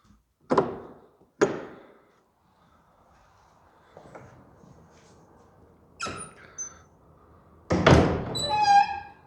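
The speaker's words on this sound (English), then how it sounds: "That's a proper door, that is." A heavy old church door at St Nicolas Church in Witham, Essex, thuds shut twice, close and solid, then after a quiet pause creaks and knocks again as it is opened and closed, with faint outdoor air behind.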